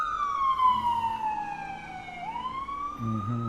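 A wailing emergency siren that sweeps steadily down in pitch, then jumps and rises again, loud and continuous with a faint engine rumble beneath it.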